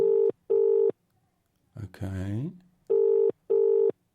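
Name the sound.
telephone ringing during a call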